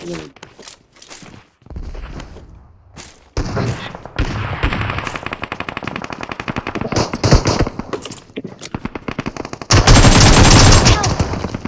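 Rapid machine gun bursts from a video game rip out in long dense volleys, growing louder and more sustained toward the end, with footsteps and brief bits of speech in between.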